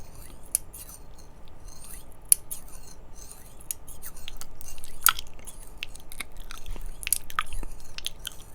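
Scissors snip in a close, quiet setting, a string of crisp, irregular cuts with sharp clicks of the blades closing, heard alone with no talk.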